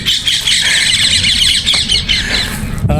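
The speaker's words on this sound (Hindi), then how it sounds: "पंछी कलरव कर रहे हैं" Birds squawk and chirp outdoors in a lively natural setting, a dense, steady chorus of calls running throughout, fairly loud and close, ending with a brief low thump.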